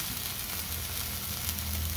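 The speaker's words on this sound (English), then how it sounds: "The first sizzle is the best sizzle." Meat sizzles loudly in a hot pan at the start of a stir fry, a dense, steady crackling hiss with a low underlying rumble, close and continuous with no voices.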